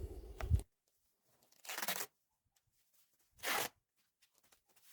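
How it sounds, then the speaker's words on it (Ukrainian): Reinforced adhesive tape for joining insulation is ripped off a roll in three quick, raspy bursts with pauses between, close and fairly quiet, with faint handling noise. "Для склеювання утеплювача беру такий армований скотч."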